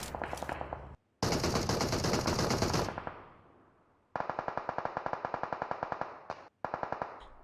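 Automatic gunfire in the mobile battle royale game PUBG Mobile, loud rapid bursts of evenly spaced shots broken by brief pauses, with sustained echoing rattle between volleys.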